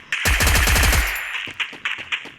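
Rapid automatic gunfire from the Free Fire mobile game: a loud, fast burst of shots followed by a few scattered, quieter pops.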